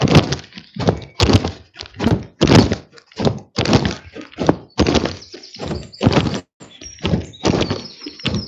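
Footsteps on an outdoor nature walk, a steady series of loud, close thudding steps in an uneven rhythm, each footfall distinct.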